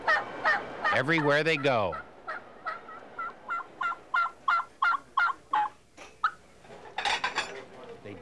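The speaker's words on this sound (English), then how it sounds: "They talk turkey from the time they get up in the morning." Turkeys gobble in a loud burst of rapid, warbling calls, followed by a steady run of short repeated gobbles and another cluster near the end, with someone speaking briefly among them.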